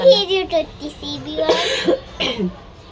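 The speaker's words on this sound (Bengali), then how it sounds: "আমরা হচ্ছি কাশি ঠান্ডায় ঘুরতেছি খুবই খুবই কাশি" Several short coughs from people with colds break out between bits of a voice and other chatter, close by and fairly loud.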